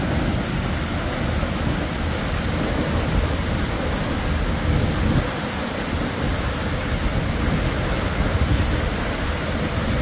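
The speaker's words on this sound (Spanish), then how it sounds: "Pues aquí estamos desde la cascada del Ateca Kalash." A steady, loud rush of falling water from the Atecacalax waterfall near Mazatepec, Puebla, roars without pause, a dense broadband hiss with no voices.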